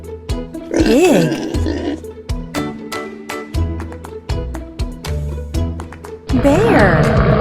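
A farm pig lets out two short grunting squeals, one near the start and one near the end, with upbeat children's music playing loudly throughout.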